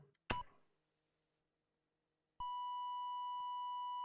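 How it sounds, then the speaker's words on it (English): Two FPGASID chips in an Ultimate64 computer sound a steady stereo beep, a pure sustained tone that starts abruptly after a sharp click and a short silence and holds at an even level until the end. "And we got stereo beep"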